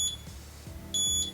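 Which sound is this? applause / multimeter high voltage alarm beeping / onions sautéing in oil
multimeter high voltage alarm beeping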